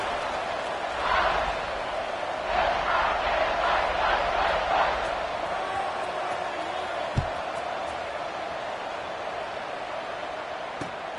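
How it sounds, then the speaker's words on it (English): A college football stadium crowd in a video game, a steady roar of cheering with rhythmic chanting swells early on and a sharp thump midway, while a commentator talks over it. "this crowd is feeling themselves after that last drive"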